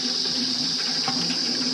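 Cold groundwater flowing from the ground on a trip toward Guptkashi, Uttarakhand, a steady close splashing gush of running water with no talk.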